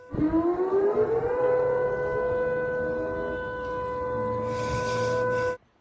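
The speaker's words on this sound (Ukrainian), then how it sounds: "В місті залунала сирена." Civil defense air raid siren wailing over Sevastopol during a missile strike, rising at the start then holding a loud steady tone, with faint background noise, cutting off abruptly near the end.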